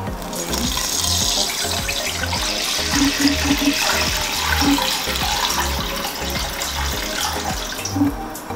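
Water runs steadily from a tap into a cooking pot, a continuous splashing rush with a few clinks of metal partway through.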